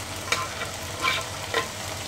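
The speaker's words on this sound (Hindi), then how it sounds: "और फ्राई कर देंगे शिमला मिर्च को चिकन के साथ।" Chopped capsicum and chicken fry in a pan over a medium flame with a soft, steady sizzle. Three short scraping stirs of a utensil sound against the pan, fairly close and with no talk.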